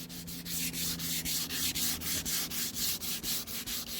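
Light hand sanding of wood with 240-grit paper before sealing, a steady rhythmic scratchy rubbing in regular back-and-forth strokes, close and continuous with no talk.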